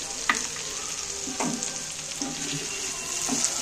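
Ghee sizzles and crackles on hot charcoal beside smoking chicken in a home kitchen, a steady close frying hiss with a few louder spits and pops, no voices.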